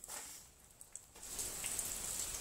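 Rain falling outdoors as a steady soft hiss that builds after about a second, with scattered louder drops tapping close by.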